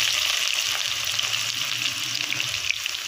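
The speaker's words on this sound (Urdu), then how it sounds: "اور پیاز کو اچھے سے فرائی کروں گا۔" Onions fry in about a cup of hot ghee for chicken korma, giving a loud, dense and unbroken sizzling hiss close up, with faint stirring underneath.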